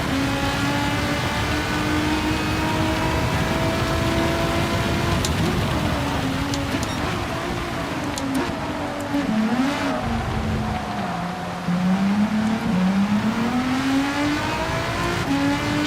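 A race car engine in a rainy Gran Turismo 7 race drones loudly and steadily, its pitch rising and falling through gear changes, with a hiss of rain and spray beneath.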